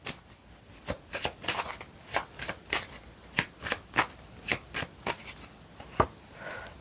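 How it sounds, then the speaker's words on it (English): A tarot deck is shuffled by hand in a steady run of crisp riffling flicks and soft card slaps, close and fairly quiet, with no talking. "I'm going to draw a card for each one of the cards that we have out here that I just spoke on."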